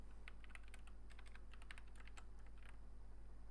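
Fingers tap quickly on a computer keyboard in an irregular patter of light, faint clicks over a low steady hum, with no talking.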